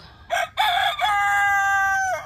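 A rooster crows once nearby, a loud drawn-out call that starts in choppy bursts and ends in a long sustained note.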